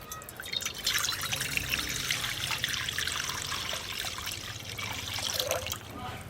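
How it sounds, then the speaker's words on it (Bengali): Water pours and trickles into a cooking pot for boiling eggs in a village kitchen, a steady splashing stream that runs for several seconds before tapering off. "ডিম সেদ্ধ করার জন্যে জল দিয়ে দেব"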